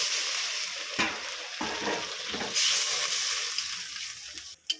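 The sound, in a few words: water poured into hot frying masala on high gas, sizzling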